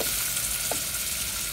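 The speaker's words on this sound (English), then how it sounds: "And then next I'm gonna add in the shrimp." Shrimp sizzle in a pan with garlic toum paste and chili, a loud steady close frying hiss with a faint stirring tap midway.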